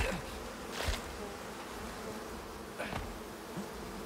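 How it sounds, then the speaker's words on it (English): In the video game Icarus, bees buzz steadily around hives, a faint continuous drone with a few closer passes rising and falling. "There's one worm, but there's a lot of bees."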